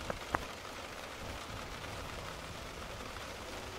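Steady rain patters on a river surface with a constant hiss, plus a couple of sharp drip or tap sounds near the start; no one speaks.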